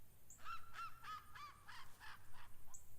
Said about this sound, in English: the ducks are going to not be quiet today.